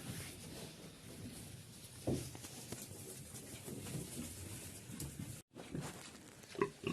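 Quiet farmyard sounds with a pig grunting and snuffling now and then amid rustling and scattered knocks, fairly faint and close by.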